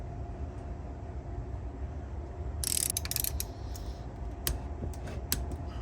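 A wrench tightening the cylinder head cap nuts with crush washers on a 1983 Honda XR200R top end, a short burst of ratchet clicks followed by a few sparse metallic ticks over a steady low hum.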